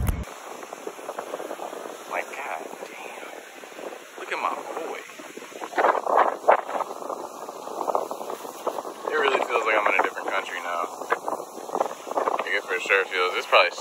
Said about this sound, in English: This is probably so fucking windy.